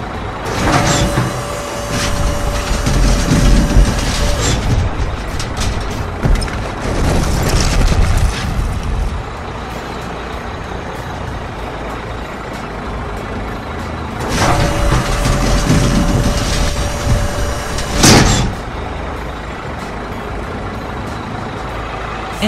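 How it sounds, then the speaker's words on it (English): A toy haul truck sound effect: a loud, rumbling engine drone with a steady electronic beep tone and sharp air-brake hisses that burst out twice, the second time followed by another loud rumble and a final hiss. "This is a haul truck."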